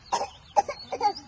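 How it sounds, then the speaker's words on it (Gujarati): Three short, close coughs come from a person at home, evenly spaced and sharp, with quiet between them and no talking. "ઉધરસ"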